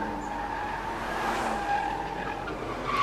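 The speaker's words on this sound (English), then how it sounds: "Oh, another twisty oversteer and correction." A race car at the Bangsaen Grand Prix street circuit in the Thailand Super Series oversteers and is caught, with a fairly faint tire skid and engine noise heard from a distance in a steady wash of sound.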